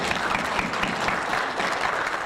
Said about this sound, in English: Go on, big clap, everybody.